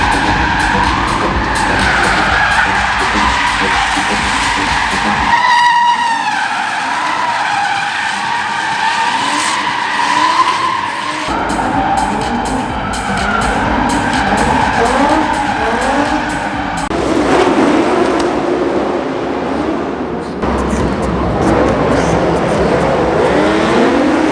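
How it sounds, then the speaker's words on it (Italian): Cars skidding with screeching tires at the Live Action Arena of the Autosport 2020 motor show, a loud continuous stretch of squealing rubber and revving engines with shifting intensity and crowd ambience. "dove sento già rumore di sgommate, quindi andiamo a vedere cosa succede"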